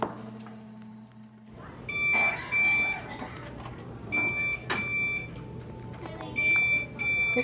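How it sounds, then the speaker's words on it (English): Repeated electronic beeps sound indoors in a care setting, high steady tones recurring in several short bursts, with people talking and moving around underneath. "What's that beeping noise?"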